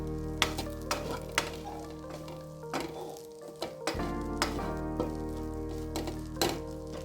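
Bread egg masala sizzles and fries in a pan while a utensil stirs it, scraping and clacking against the metal in a steady rhythm of strokes over a continuous close sizzle.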